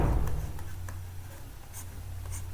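Steady scratching of chalk or marker on a board during a lesson on the Bharia tribe, faint continuous strokes after a brief louder opening, with no talking.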